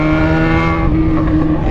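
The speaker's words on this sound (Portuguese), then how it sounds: "Mano, a motoca tá muito barulhenta." Yamaha XJ6 motorcycle with a straight-pipe exhaust, loud and close, a steady droning engine note with strong harmonics that eases slightly near the end, with no talk.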